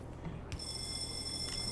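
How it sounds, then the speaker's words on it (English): An in-game alarm in Factorio with the Exotic Industries mod warns that fuel cells have run out, sounding as a sustained high electronic tone that starts abruptly and holds steadily over a low mechanical factory hum. "that's our alarm saying we've run out of fuel cells"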